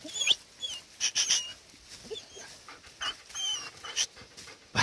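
A hunting dog out in the field pants quickly and lets out short, high yelps and whines in scattered bursts, fairly close, with no one talking.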